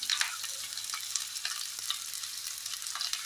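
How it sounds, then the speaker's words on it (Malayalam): Hot coconut oil sizzles steadily in a pan while cooking an egg curry, a continuous close crackling hiss with small pops, alone without talk. "എണ്ണ ചൂടായി. എണ്ണ വെളിച്ചെണ്ണയാണ് കേട്ടോ അതിനെടുത്തിരിക്കുന്നത്."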